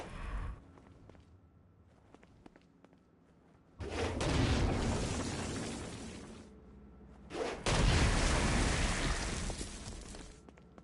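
Stone Blast attacks and gunfire against flying demons in the Gat Out of Hell video game, two loud sustained bursts of blasting noise separated by a brief lull, rising out of quieter game ambience.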